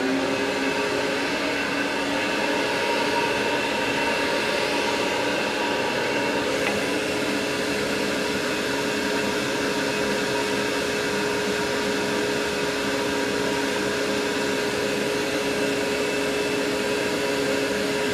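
A shop vac pulls oil and debris through nylon tubing from the engine of a 1971 Dodge W100 Sweptline with a 383 big block. It makes a loud, steady, unbroken drone with a constant whine, with no talking.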